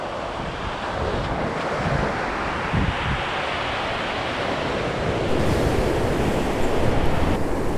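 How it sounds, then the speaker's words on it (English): Surf rolls in on a beach for a morning of fishing, a steady broad wash of breaking waves mixed with wind buffeting the microphone, loud and continuous with a slight swell near the end. "We got a little bit of surf this morning, not too bad."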